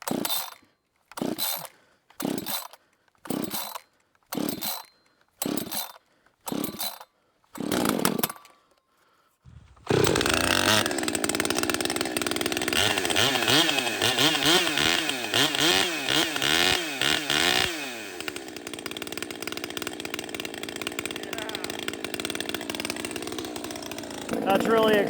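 An Echo 620P 40cc chainsaw, brand new and untuned, is pull-started several times with short rasping bursts, then catches and runs continuously at loud, fluctuating revs close by.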